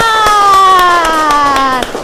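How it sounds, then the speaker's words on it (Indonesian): In a sixth-grade maths classroom, hands clap in an even rhythm, about seven sharp claps in two seconds, under a sustained chanted or sung voice that slowly falls in pitch. "Iya, tepuk tangan."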